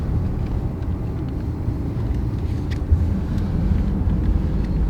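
Citroen C5 X PHEV petrol engine running under load while driving, a steady low hum and rumble from inside the car, with faint road noise and no talk.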